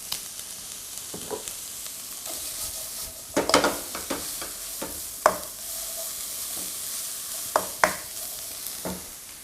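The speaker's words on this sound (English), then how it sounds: "So we basically want to sweat these down so they're a softer consistency." Vegetables, including cabbage and zucchini, sweat in a pan with a steady bright sizzle, broken by several sharp scraping stirs at irregular intervals.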